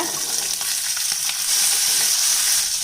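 Small shallots with chillies, curry leaves and garlic sautéing in oil for a mixed-vegetable chutney, a loud, close, continuous sizzle with faint stirring movements throughout.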